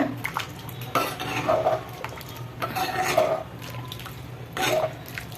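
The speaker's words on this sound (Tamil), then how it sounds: "கடலை மாவு ஊற்றிட்டு உடனே கலந்துருங்க" A spoon scrapes and clinks against a metal pot in short bursts, stirring thick gram flour batter into idli sambar, with a faint hum underneath.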